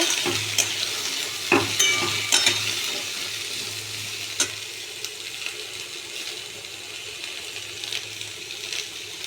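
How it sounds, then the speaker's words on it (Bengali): Potatoes being stirred and fried in a pan for a home-style potato dish with black cumin and green chilli, soft steady sizzling broken by scraping stir strokes and a few sharp clinks, fairly quiet with no talking. "এবারে দিয়ে দেবো আলু হালকা একটু নেড়ে চেড়ে ভেজে নেব"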